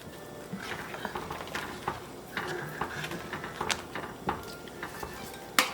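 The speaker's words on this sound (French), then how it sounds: "Je vais venir piler un peu ma viande hachée qui est déjà cuite." Cooked minced meat being pounded for a Guinean gombo sauce, giving a run of irregular dull knocks and clinks of a utensil against a pot or mortar, close and fairly quiet, with no talking.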